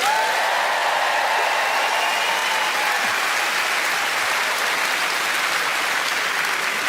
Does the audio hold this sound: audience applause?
yes